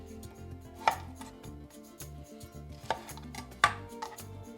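A knife cuts through a pear on a board to remove the core, giving a few sharp, close knocks against the board with softer slicing in between, alone and without any talk.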